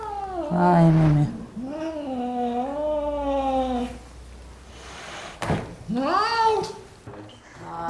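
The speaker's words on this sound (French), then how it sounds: "Docteur Assia, c'est un chat de quelle race?" A ten-month-old cat at a veterinary clinic for its annual vaccine lets out long, drawn-out wailing meows, close and loud, one after another with short gaps, and a brief knock sounds between them.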